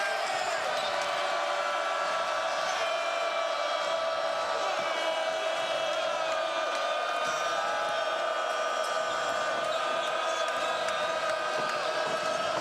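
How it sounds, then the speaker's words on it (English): Home crowd at a South Carolina Gamecocks basketball game in Columbia against Tennessee, a steady loud roar of cheering with sustained whistles and shouts throughout, no letup. "They draw a lot of energy off this home crowd."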